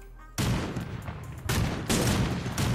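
Rapid bursts of gunfire from the Cyber Hunter battle royale video game, loud and close, a dense volley breaking out after a brief quiet moment and continuing in repeated clusters without pause.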